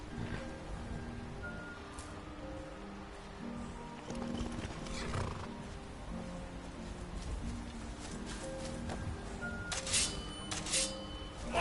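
A horse in the video game Skyrim whinnies and its hooves clip-clop over a steady wash of background noise, with a sharper neigh toward the end.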